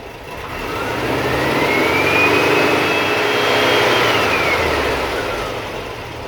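A Type 4 engine idles loud and close while warming up, a steady droning rumble with a whining tone that climbs and then falls back in pitch.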